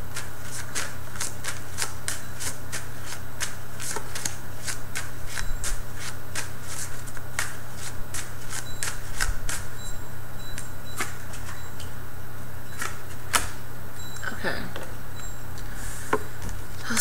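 Tarot cards being shuffled by hand, a long close run of crisp riffling flicks and slaps that keeps a fairly steady rhythm over a constant low background hum.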